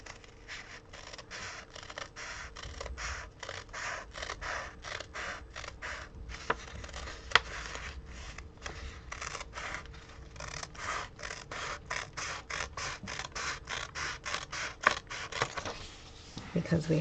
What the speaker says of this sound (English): We can trim the edges there, and then we can trim right along this line